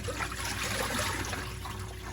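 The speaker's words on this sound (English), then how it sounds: "now drain the water" Rinse water from washed fish drains away in a steady, close trickling gurgle that runs continuously with no talking.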